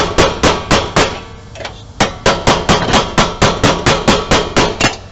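A hammer strikes a screwdriver to seat the barb of an electric meter base against metal, giving a loud, sharp series of metallic taps at a steady, fairly quick rhythm, heard up close with no other sound.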